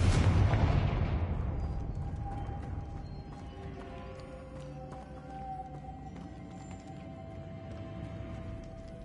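Loud blasting bursts of the Confringo spell in a Harry Potter–style wizard video game, opening with a big impact and rumbling decay, followed by lingering ringing magical tones and scattered crackles.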